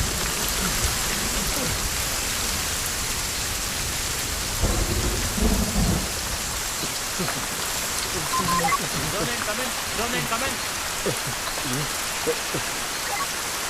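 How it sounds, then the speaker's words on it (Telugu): Steady heavy rain pours throughout, with low rumbles of thunder rolling in the background and a brief voice partway through. "అయ్యో వాన వస్తుంది సార్."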